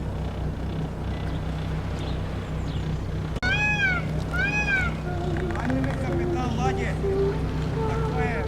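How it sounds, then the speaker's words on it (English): From a cruise boat on Lake Ohrid, a bird calls twice in sharp, rising-and-falling cries, followed by a series of softer tonal notes, all over a steady low rumble of engine and water. "That was an interesting bird call, since it sounds like an eagle to me, or a hawk at the least."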